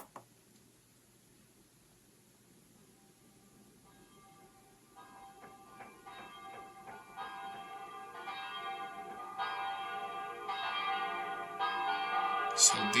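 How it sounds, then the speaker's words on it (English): A Verdin 720 digital carillon rings church bells, faint at first then growing steadily louder as more ringing bell tones pile up and overlap toward the end, with no talking. "So these are the bells"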